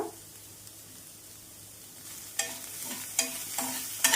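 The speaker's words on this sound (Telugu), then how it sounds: "ఇప్పుడు ఈ రొయ్యల్లోకి మనం ఒక టేబుల్ స్పూన్ దాకా ధనియాలు వేసుకొని వేపుకుందాం" Dried prawns frying in a pan with coriander seeds and cumin for a Telugu-style prawn chutney, quiet at first, then a soft sizzle with scraping stirs and a few louder clatters of the spoon toward the end.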